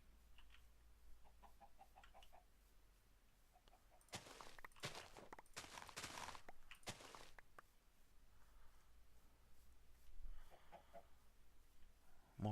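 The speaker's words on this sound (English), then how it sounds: "More chickens." Chickens cluck in a Minecraft FTB Beyond modpack video game, with short soft clucking calls scattered across the stretch, interrupted midway by a burst of louder footsteps and movement noise.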